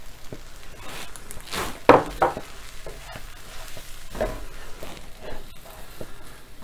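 Plain flour cooks in a pan over a low flame for chicken croquettes, with soft sizzling under scraping and stirring strokes and a few sharp knocks of the spoon against the pan.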